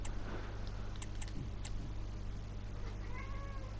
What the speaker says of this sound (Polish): Może mi to kot płacze